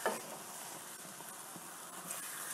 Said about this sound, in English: And we're just going to sweat these mushrooms down.